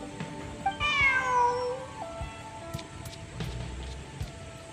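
Cat in the video game Genshin Impact gives a single drawn-out, close meow over a soft, rain-like ambient bed, followed by a few light clicks.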